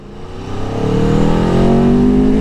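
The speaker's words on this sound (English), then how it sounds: "When you get to 30 miles an hour, it opens up and then the true sound of that exhaust comes through." A 2021 Aprilia Tuono 1100 Factory motorcycle accelerates, its engine note climbing steadily as the exhaust valve opens around 30 mph, the exhaust growing louder and deeper with a rising, throaty drone.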